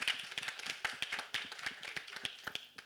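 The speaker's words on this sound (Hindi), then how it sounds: "एक बार तालियां इस चीज के लिए." Scattered clapping from an audience at a song launch event, a thin, uneven patter of hands with distinct individual claps, fairly faint and without talk over it.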